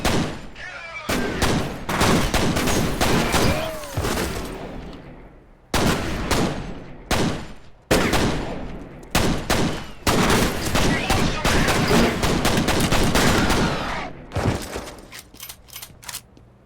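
Loud, sustained gunfire from the video game F.E.A.R., with dense bursts of automatic fire and heavy shotgun blasts packed closely together, broken by a few short pauses before trailing off near the end.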